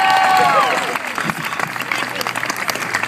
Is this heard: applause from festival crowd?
yes